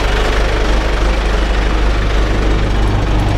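The engine of a Bandit wood chipper idles at low RPM, a loud, close, steady low rumble with an even throb and a slight knock, alone without talk.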